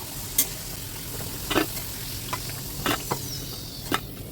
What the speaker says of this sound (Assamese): আৰু আলুখিনি মই ভালদৰে ফ্ৰাই কৰি ল'ম, লাল কৰি